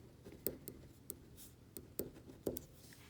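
Marker or pen writing on a board during a geometry lesson, a quiet series of sharp scratchy strokes and taps at an uneven rhythm, about seven distinct marks, with no talk.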